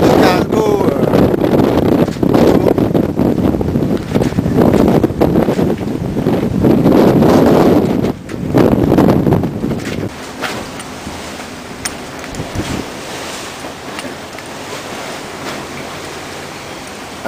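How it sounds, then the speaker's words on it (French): Strong force 6 following wind at sea aboard a catamaran near Gibraltar, a loud roaring rush buffeting the microphone with heavy gusts for about ten seconds, then easing to a steadier, quieter whoosh of wind and water. "Ah, le vent arrière, ça change tout."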